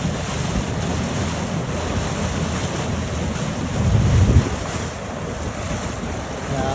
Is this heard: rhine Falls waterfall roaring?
yes